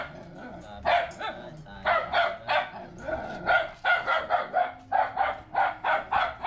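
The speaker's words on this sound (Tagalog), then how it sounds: "Ingay ng aso namin." Dogs bark in repeated bursts, loud and close, on a hot day in Cavite, with a rooster crowing in the background.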